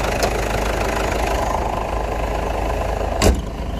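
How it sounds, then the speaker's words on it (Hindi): A 12-13-year-old Ford Endeavour Thunder+ 4x4 idles steadily with its bonnet closed, giving a continuous muffled engine hum with one brief knock near the end. "अभी आप गाड़ी का साउंड सुन रहे हैं, अभी भी ये ओरिजिनल साउंड पर है।"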